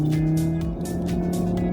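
A 2025 Audi RS3 Carbon Vorsprung 2.5 TFSI runs in sport mode, its steady engine drone loud and close with a continuous low hum and no speech.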